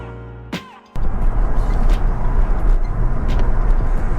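Porsche 911 of the 996 generation with a six-speed manual gearbox, driving on the road: a brief quiet moment gives way to a loud, steady engine and road roar heard from inside the cabin.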